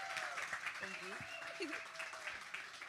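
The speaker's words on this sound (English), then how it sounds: "Please, one more round of applause for Taylor." Audience applause for a performer rises under and around a host's voice, the clapping a broad steady patter while speech and some tonal sounds sit over it.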